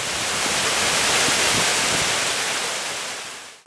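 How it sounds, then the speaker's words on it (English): Fiordland Falls, an 80-metre waterfall on the Routeburn Track in New Zealand's mountains, roars as a steady, dense, loud rush of falling water heard up close with no voices. "There are waterfalls everywhere. This is Fiordland Falls, 80 metres high"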